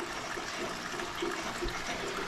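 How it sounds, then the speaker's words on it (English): Filtered water runs and splashes continuously in an indoor winter habitat for Mexican box turtles, a soft, steady trickling wash with no voices. "You'll see all my my box turtles have running and filtered water."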